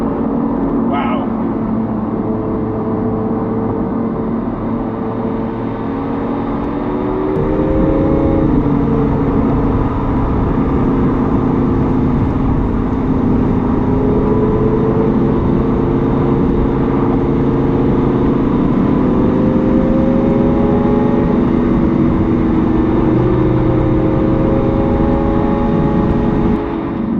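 Lamborghini Aventador Pirelli Edition V12 engine running steadily while driving, a loud continuous drone with shifting pitch as speed changes, and talk over it throughout.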